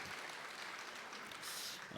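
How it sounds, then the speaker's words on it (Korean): A church congregation claps together during a Sunday service, giving a soft, even patter of applause heard from a distance that carries on steadily throughout. "우리 다시 한번 박수하겠습니다."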